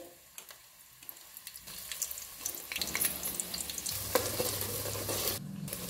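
Finely chopped onions go into hot oil for chicken biryani and fry with a rising sizzle, and a few stirring scrapes come close, growing louder as the clip goes on, with no voices.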